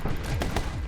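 Gunshots from the side-scrolling action game My Friend Pedro, a couple of sharp bursts cracking over a dense, busy game soundtrack, with no voices.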